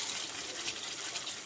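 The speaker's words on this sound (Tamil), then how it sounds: "இது கூட லைட்டாக தண்ணி ஆட் பண்ணிக்கலாம்." A little water is poured into a pan of keema gravy during cooking, making a steady, close splashing gush throughout with no talking.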